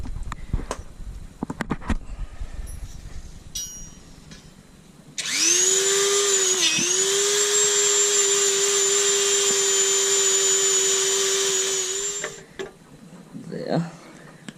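A Dremel rotary tool cleans up a 1960s sissy bar being fitted to a Yamaha Virago XV250 bobber. After some handling clatter, it whines loud, steady and high for about seven seconds, with one brief dip in speed before it stops.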